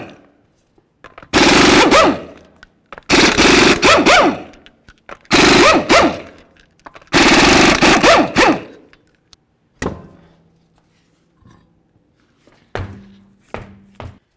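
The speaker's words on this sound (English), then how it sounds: "we're going to remove all 5 of our 19mm lug nuts and then the wheel" An impact wrench loosening the 19mm lug nuts on the front wheel of a 2006-2010 Ford Explorer, four loud rattling bursts of hammering a few seconds apart, followed by faint clinks and small knocks.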